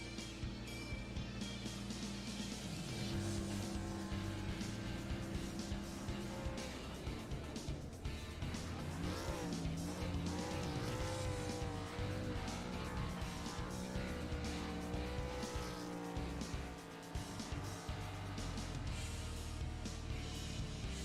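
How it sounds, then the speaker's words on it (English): A race truck at Talladega Superspeedway roars through a long, sustained burnout after winning, engine revving hard with squealing tires, loud and continuous beneath a crowd and commentary. "What a burnout here from Kevin Foster."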